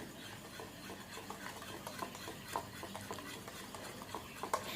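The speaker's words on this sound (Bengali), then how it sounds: "আমি এখানে তেল আর চিনি গুঁড়ো ভালো করে মিশিয়ে নিয়েছি।" Oil and powdered sugar stirred together in a bowl for an eggless cake batter, a soft continuous scraping and swirling with light irregular clinks, close and fairly quiet with no talk.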